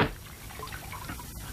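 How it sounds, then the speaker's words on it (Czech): Water is poured over a person, a quick splash at the start followed by a brief, softer trickle, close by. "A ještě na mě leješ vodu?"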